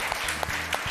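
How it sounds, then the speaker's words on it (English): A short burst of audience clapping at a stage event, with the individual claps landing in a loose, uneven rhythm over a low tonal hum. "more clap for all of them."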